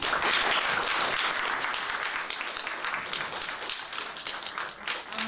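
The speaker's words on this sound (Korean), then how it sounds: "권석천 위원을 큰 박수로 맞이해 주시면" An audience at a special lecture claps to welcome a newspaper editorial writer as guest speaker, with steady, many-handed applause that stays strong throughout and eases a little toward the close.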